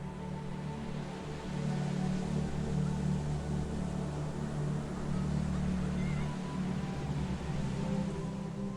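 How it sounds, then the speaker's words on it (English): Steady rushing wash of surf with a constant low rumble, continuous and fairly loud with no voices. "As you listen to the waves, let your breathing naturally sink in with the rhythm of the ocean."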